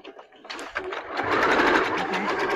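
A sewing machine stitches fabric in a beginner sewing class, its rapid mechanical whir rising after a few softer starts and running steadily close by.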